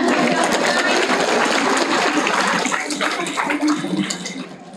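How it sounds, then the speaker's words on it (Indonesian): Audience applause at a government ceremony handing over civil servant appointment decrees in Central Lombok, a dense, steady clatter of many hands that fills the whole stretch, with voices mixed in beneath it. "Tepuk tangan."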